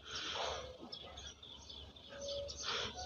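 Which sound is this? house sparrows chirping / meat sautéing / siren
house sparrows chirping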